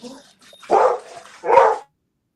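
Pet dogs barking indoors near a microphone during a video call, two loud close barks after a faint one, then silence.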